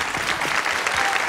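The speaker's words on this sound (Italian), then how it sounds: "Un bel applauso alla signora." Studio audience applauding for a woman on a 1983 Italian television beauty show, a steady, dense wash of clapping that holds evenly throughout.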